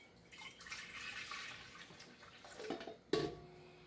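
Warm water at about 100 degrees is poured into a bowl for Amish bread, a steady soft splashing pour that ends with a brief clunk near the close.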